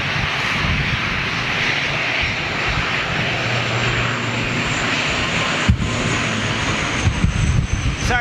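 Engines of a Cathay Pacific Airbus A350 at Manchester Airport roar as a loud, sustained broadband rumble with wind buffeting, steady across the clip with a few bumps near the end.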